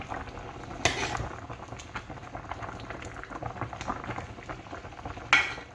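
Close, steady bubbling of a pot of chicken feet at a rolling boil, with a couple of sharper sizzling spatters breaking through.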